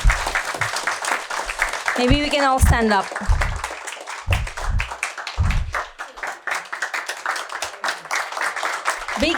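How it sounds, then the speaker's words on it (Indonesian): Applause and scattered clapping from a gathered audience honouring the residents of Tampasak, lively and uneven, with someone speaking over it near the start and cheering voices mixed in. "Beri tepukan kepada penduduk Tampasak."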